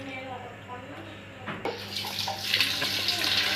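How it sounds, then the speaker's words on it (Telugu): Leftover mutton cooking water is poured into a pot of mixed chicken and mutton biryani masala, starting as a sudden splash partway through and continuing as a steady, gurgling stream close by. "మటన్ ఉడక పెరిగిన నీళ్ళునేగా అవి కూడా పోసేస్తున్నాం"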